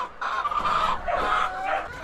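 Pet chickens cluck noisily and continuously at close range, a busy overlapping chatter of hens waiting to be fed.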